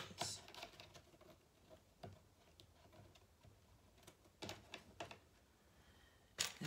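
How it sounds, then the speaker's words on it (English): Small scissors snip a tiny straw for miniature furniture, producing a handful of sharp, close, isolated clicks spread irregularly over faint background. "I have to cut this straw."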